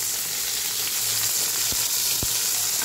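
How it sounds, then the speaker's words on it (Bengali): Bitter gourd frying in plenty of hot oil with a pinch of salt: a steady, close, dense sizzle throughout, broken by two brief sharp crackles, with no talking. "উচ্ছেটাকে খুব ভালো করে লাল লাল করে ভেজে দিতে হবে।"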